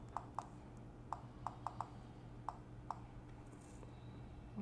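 Soft taps on a smartphone's on-screen keyboard, a handful of light, irregular clicks spaced apart over a faint steady hum, quiet and close.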